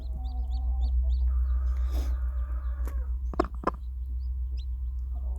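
Soft hen clucks and faint high peeping of newly hatched chicks over a steady low hum, with a couple of sharp close knocks midway.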